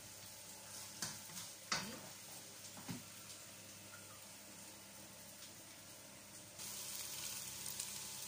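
Onions sautéing in a pan for a lentil dish, a faint, soft sizzle with a few light stirring scrapes and knocks near the start, then a steadier hiss toward the end; a voice briefly speaks.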